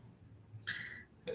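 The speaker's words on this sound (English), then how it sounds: "Sorry about that. I burped." A single short, close burp with a rising then falling tone, followed by a brief second vocal sound, in an otherwise quiet setting.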